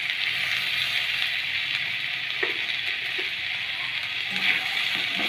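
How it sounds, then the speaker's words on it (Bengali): Chopped spring onions frying with ginger-garlic paste in a pan for an egg and soya chunk curry, a steady close sizzle running throughout with a few small stirring clicks. "এগুলো আদা রসুনের সঙ্গে ভাজাও হয়ে যাবে"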